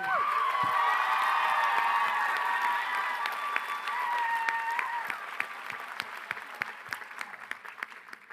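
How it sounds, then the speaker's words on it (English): Crowd applauding at the Agnes Scott College commencement, with cheers and whoops over loud clapping that thins out into scattered individual claps toward the end. "a round of applause for Evie"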